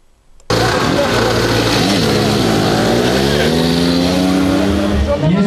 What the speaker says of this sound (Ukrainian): Цей мопед випуску 1966 року.